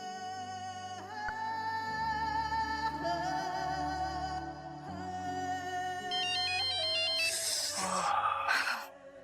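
A mobile phone ringtone plays a melodic electronic tune for several seconds, loud and close, ending in a bright chiming burst before fading, with a brief voiced breath or sigh underneath.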